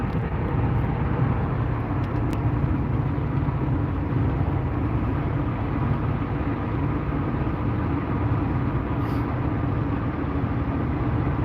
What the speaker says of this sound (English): This traffic is so bad right now.